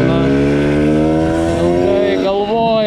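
A single-cylinder scooter engine, seen at a Latvian/Lithuanian scooter meeting, held at full throttle from low revs, droning loud and close with a steady rising harmonic whine, a brief shift near the end, and a voice talking over it.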